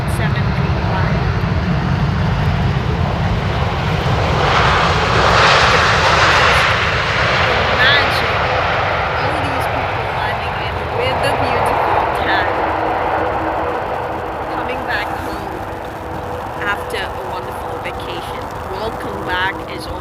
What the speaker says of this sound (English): It's a Boeing 787 Dreamliner.